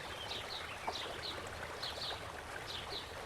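Paintbrush being rinsed in a water cup between strokes while painting a mug, soft swishing and light trickling with faint clinks, quiet and close, no one speaking.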